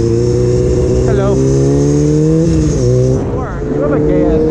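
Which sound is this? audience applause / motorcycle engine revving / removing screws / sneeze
motorcycle engine revving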